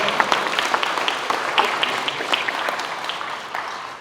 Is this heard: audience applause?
yes